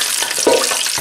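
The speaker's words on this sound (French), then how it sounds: "Et là, je vais plonger mes grillwash dedans." Griwech pastries frying in hot oil, a dense continuous bubbling sizzle, close and loud, with a few soft bursts.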